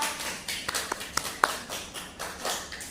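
Scattered hand claps from a small classroom of students, a handful of sharp individual claps over a soft, hissy room background, uneven and fairly close, with no voices.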